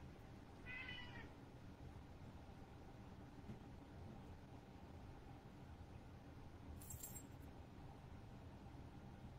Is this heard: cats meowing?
yes